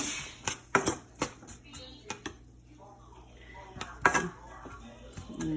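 A metal spoon scrapes and clinks against a pan while two chopped onions are stirred, giving irregular knocks and scrapes at close range over a faint background hum.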